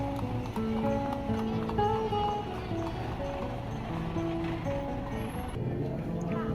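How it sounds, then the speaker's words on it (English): Hooves of a horse pulling a delman carriage clip-clop along an old-fashioned street in a steady, moderately close rhythm, under a voice and tonal background sound. "delmans, or horse-drawn carriage for transportation"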